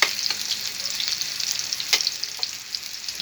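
Chopped onions sauté in a hot pan, giving a steady close-up sizzle with a few sharp crackles and pops and no voices.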